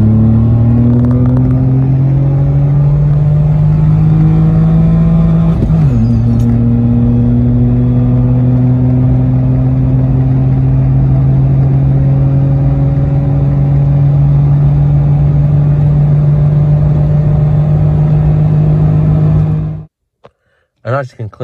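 A remapped Citroen C1 accelerating at motorway speed, heard from inside as a loud, steady engine drone whose pitch climbs gradually, eases briefly, then resumes rising before cutting out abruptly near the end.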